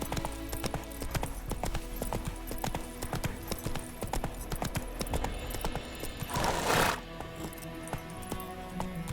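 Roach the horse trots in The Witcher 3, its hooves clip-clopping in a steady close rhythm, broken once by a brief rushing burst.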